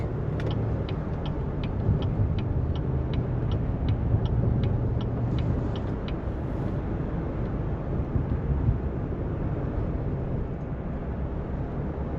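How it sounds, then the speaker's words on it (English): Fast road traffic rushing past in a steady, continuous roar of tyres and engines, with faint rhythmic ticking early on, and no voices. "Always like to show you this fast moving traffic in this country"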